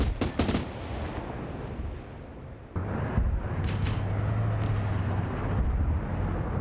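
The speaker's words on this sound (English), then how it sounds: "The short-range autocannons are actually triple-Aing it." Short-range autocannons firing anti-air in a military wargame, loud rapid bursts of automatic fire followed by a sustained rumbling barrage with a low drone underneath.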